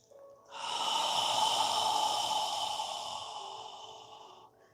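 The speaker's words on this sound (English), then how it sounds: "exhale slowly with control through your mouth, squeezing out all of the air in your lungs" A single slow, controlled exhale through the mouth during a yoga class, a long breathy rush lasting about four seconds that fades gradually, close and with no talking.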